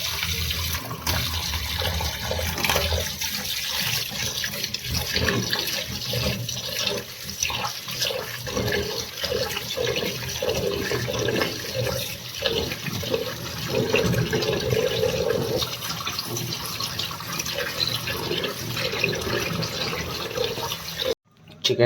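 Raw chicken rinsed by hand under a running kitchen tap, with constant splashing water and irregular sloshing and handling noises through most of the span, stopping abruptly near the end.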